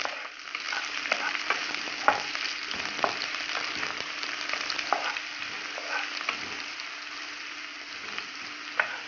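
Masala for a Kerala-style prawn curry is stirred and fried in a pan. A constant close sizzle runs under repeated scraping and stirring strokes, with no one talking.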